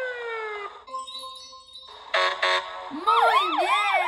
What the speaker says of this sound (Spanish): Muy bien, un carro de bomberos.